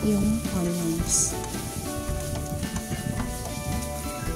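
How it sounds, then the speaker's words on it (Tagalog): Garlic and onions sautéing in a pan for crablets in coconut milk: a steady close sizzle of frying with stirring scrapes throughout, with a voice and background music faintly underneath. "ang ilalagay natin at isasaute yung garlic. Halu-haluin lang ng kaunti. Pagkatapos, isunod mo naman yung onions."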